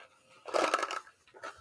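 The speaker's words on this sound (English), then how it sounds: "That is the sound of a box of dice." A box of dice is shaken, making a short burst of rattling clatter about half a second long, followed by a smaller second rattle, close and fairly quiet.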